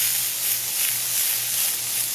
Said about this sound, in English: You hear the sizzling. You want to start breaking the skins on the tomatoes.